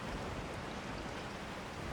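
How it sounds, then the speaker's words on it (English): Steady rain falling at night in Resident Evil 4, a dense even hiss of drops with no breaks or other sounds, moderately quiet throughout. "It's raining."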